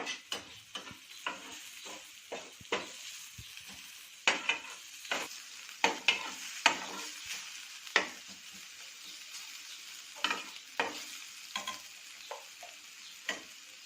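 Salted tomato pieces fry in a pan for masala pav, a soft low sizzle broken by repeated spatula taps and scrapes against the pan, fairly quiet and irregular.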